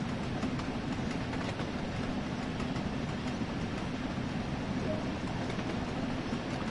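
A train runs in Train Sim World 2, giving a steady, even rumble with a low hum and faint rhythmic clatter, constant in loudness and without voices.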